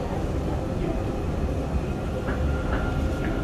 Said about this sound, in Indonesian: Kita lagi naik Skytrain mau ke Terminal 3.